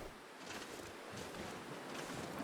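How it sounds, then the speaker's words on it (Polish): Wind rising in The Long Dark, a steady hissing gust that swells and roars in broad waves, with no voices over it. "Wiatr się zwiększa."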